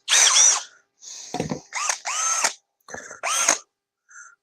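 A Makita 12V brushed power drill fires in several short, separate bursts, each a whining spin-up that rises and falls in pitch before stopping, with silent gaps between the pulses.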